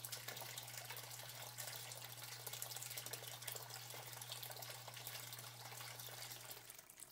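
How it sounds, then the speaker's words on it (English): Water pours steadily through an EZ-T siphon in an aquaponics grow bed, a constant faint gushing and trickling with a low steady hum beneath it, unbroken for several seconds with no voices. "this allows the water to flow down the center of the T"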